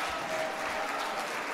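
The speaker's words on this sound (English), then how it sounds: "the crowd is not cheering for the Czech player, but for Edmund" A spectator crowd at a European Youth Olympic Festival judo bout in the under-73 kg class applauds and cheers loudly and continuously throughout.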